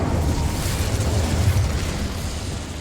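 Incendio fire spell cast in the video game Hogwarts Legacy, inside a goblin mine: a sustained roaring, crackling burst of flame with a deep rumbling low end, loud and steady for about three seconds with no talk.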